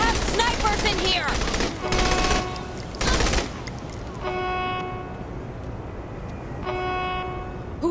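Sniper gunfire in Saints Row 3 cracks out as several sharp, loud bursts over the first few seconds. Quieter, sustained tonal sounds follow.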